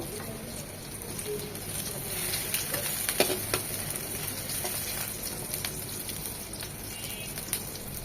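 Drumstick (moringa) stems fry lightly in a pan with a steady, close crackling sizzle, interrupted by faint ticks and scrapes of stirring, a soft even frying hiss throughout.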